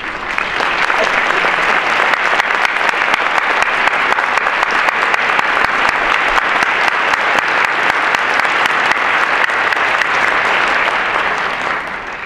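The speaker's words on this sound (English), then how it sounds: "invite all the ambassadors here present to stand up so we can give you a round of applause" Sustained, loud applause from a lecture audience honoring the ambassadors present, steady and dense clapping that carries unbroken for about twelve seconds before tapering slightly at the end.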